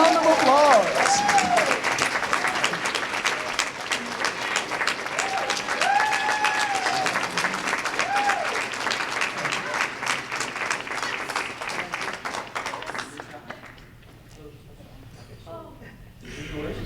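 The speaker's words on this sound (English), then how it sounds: "Please give her a round of applause." Audience applause for a student essay contest winner at a school ceremony, steady clapping with some whoops and voices mixed in, fading out near the end into quieter room sound.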